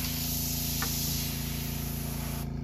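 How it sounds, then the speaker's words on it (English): A steady, close hiss of an airbrush spraying during cleaning runs nonstop and evenly, with no talking over it. "while I'm cleaning my airbrush"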